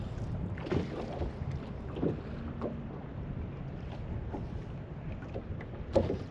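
Steady wind buffeting a bass fishing boat on open water, a constant breathy rush with gusts and faint knocks and splashes, and no talking.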